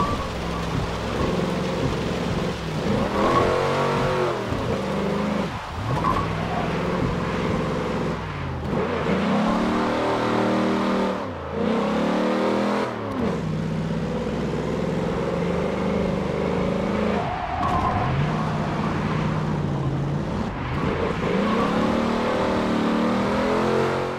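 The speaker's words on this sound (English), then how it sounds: "Trying to drift through them, but I'm not getting enough speed in this car." In the racing game Forza Motorsport 7, a car drifts with a continuous, droning engine note that rises and falls as it revs, accompanied by a steady rushing noise throughout.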